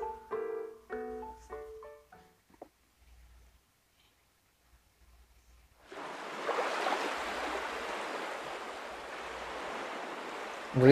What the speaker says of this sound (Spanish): Río revuelto.